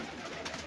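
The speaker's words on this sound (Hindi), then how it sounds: "लो जी ये गुलाबी रंग का कबूतर" Pink pigeon among a flock of fancy pigeons, giving soft, faint coos, a couple of brief murmurs late on, with no talk.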